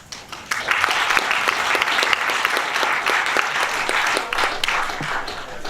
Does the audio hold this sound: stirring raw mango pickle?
no